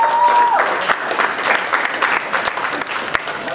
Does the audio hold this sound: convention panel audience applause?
yes